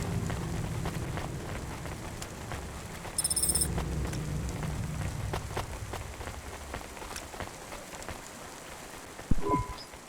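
Rain falls in the video game Cloudpunk, a soft steady hiss with scattered drops and a low rumble underneath, joined by a brief electronic chime and a few sharper taps near the end.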